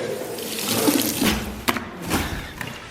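Shirts being hand-washed in a sink under running water, with steady splashing and gurgling, a few sharper sloshes and drips, close and fairly loud, no talking.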